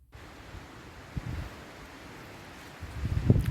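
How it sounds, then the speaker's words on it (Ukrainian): Steady wind roars across the microphone outdoors at a parking area beside a forest, rising in gusty bursts with low rumbling buffets and a strong surge near the end. "Вітер так взагалі таки піднявся."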